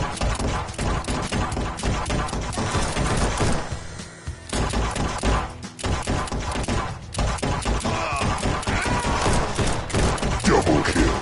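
Dense, loud bursts of gunfire crackle almost nonstop in the VR shooter game Guns n Stories: Bulletproof, with a brief lull near the four-second mark before the shooting resumes.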